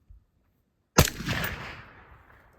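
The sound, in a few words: rifle gunshot fired with Brugger Thomet Print-X RBS 762 suppressor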